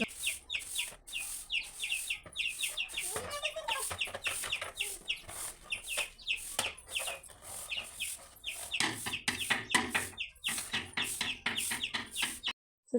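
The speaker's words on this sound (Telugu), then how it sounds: "కోళ్ళు ఉన్నాయి మాకు ఆ కోళ్ళ సౌండ్ పక్షుల సౌండ్ మంచి వస్తుంది" Chickens cluck repeatedly in a busy, uneven rhythm, close by, with chirping birds mixed in and no talking, in a village in the evening.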